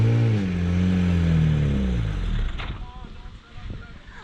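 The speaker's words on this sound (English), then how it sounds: "Check out that Lotus right there, a guy in town drives by like that all the time." Lotus sports car passing by on a town street, its engine note rising and falling as it sweeps past close by, followed by fading road noise and a voice talking over the pass.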